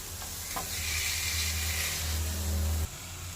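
Chicken kabsa being stirred and mixed in a pan, a steady close sizzle and scraping hiss running for about three seconds before stopping abruptly.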